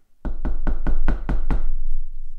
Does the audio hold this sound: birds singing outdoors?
no